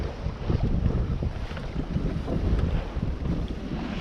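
A sailboat moving at about four knots in fair weather off the Swedish coast, with steady wind rush buffeting the microphone and low water wash against the hull continuing throughout, close and fairly loud, with no talking.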